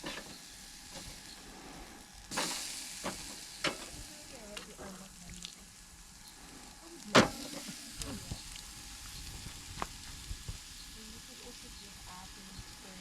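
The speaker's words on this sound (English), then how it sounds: "Let's put the meat on the braai." Meat sizzling on a braai fire at a Kalahari camp in Kang, Botswana: a soft steady sizzle and hiss with scattered pops and clicks, fairly quiet and close.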